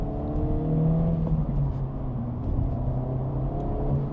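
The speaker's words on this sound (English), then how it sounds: "I love the noise of it too, the ambience of it." A 2025 Acura Integra Type S drives along with a low, steady engine drone and road rumble, heard from inside the car, with no talking.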